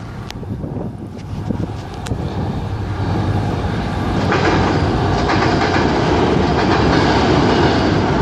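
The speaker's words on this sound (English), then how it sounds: "Was that not the longest train you've ever seen in your entire life?" A long train rolls past close by, a steady rumbling clatter of wheels on rail that builds slightly and holds, with wind buffeting the microphone throughout.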